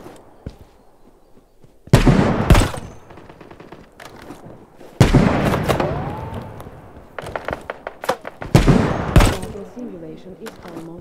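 Sniper rifle shots in the mobile shooter Battle Prime: several loud, sharp cracks spaced a few seconds apart, each followed by ringing mechanical reload clatter and softer game effects between them.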